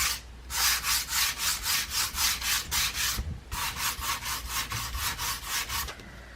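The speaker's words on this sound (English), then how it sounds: "Going to use a bit of a sander just to smooth it out a little bit" A power sander smooths a wooden Christmas craft piece in rhythmic back-and-forth strokes, a steady pulsing rasp close by that pauses briefly before resuming.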